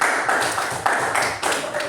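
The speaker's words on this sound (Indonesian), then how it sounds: "Ayo tepuk tangan." A sixth-grade class in Indonesia claps together, a dense, sustained burst of many hands that swells in waves, with a faint voice underneath.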